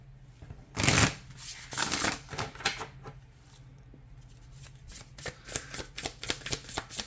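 Tarot cards shuffled by hand, starting with one loud riffle and followed by a run of quick, crisp flutters and taps, close up and with no talk.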